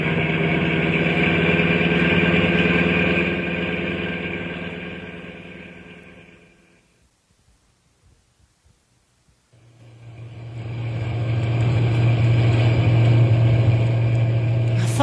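A truck engine drones steadily and then fades almost to nothing. It comes back deeper and louder, with a strong low rumble as the throttle opens and the truck picks up speed.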